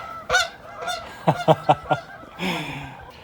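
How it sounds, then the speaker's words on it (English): Flying geese honk repeatedly in spring, a few spaced calls followed by a quick run of four sharp honks and a longer, hoarse call at the end. "You know it's getting to spring when the geese are flying back."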